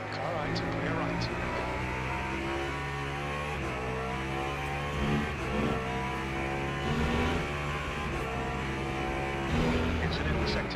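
Race car engines in the sim racing game Le Mans Ultimate, an endurance race at Qatar, drone steadily with layered revving tones close up, while someone talks over them.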